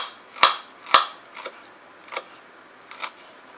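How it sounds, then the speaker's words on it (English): Spring onions being chopped with a knife on a board in a home kitchen, five separate sharp cuts spaced about half a second apart, close and clear with quiet pauses between them. "I was trying to chop the onions, or spring onion"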